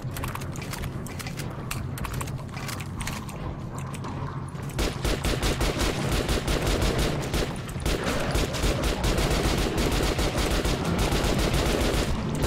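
Gunfire in the video game Metro: Last Light: rapid bursts of shots, sparse at first, then dense, loud and continuous through the second half, with mechanical clatter mixed in.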